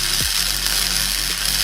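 Flux core wire welding on a budget fabrication setup gives a loud, steady, close crackling buzz that runs on without a break, with no talking.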